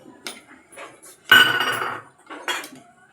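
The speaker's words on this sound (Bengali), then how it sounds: "অ্যালোভেরা জেলটা ভালো করে মিশিয়ে নেব।" A spoon clinks and scrapes against a bowl while aloe vera gel is mixed into a thick, sago-like paste, with a burst of louder metallic stirring in the middle and lighter taps before and after.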